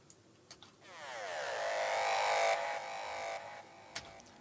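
Funky hard trance synth effect with heavy delay and the low end EQ'd out, sweeping and rising into a sustained bright buzzing tone that holds, then steps down and fades, with a few short clicks.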